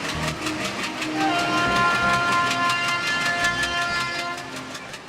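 A train pulls away with rhythmic clattering wheels and rumbling carriages, building steadily, with a horn-like tonal note near the start, no speech.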